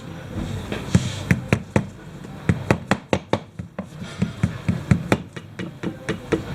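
Sharp taps on an engine cover of a 1995–1997 Kawasaki ZX-6R (ZX600F) motorcycle during valve clearance work, a close series of about twenty quick knocks in uneven bursts with no talk.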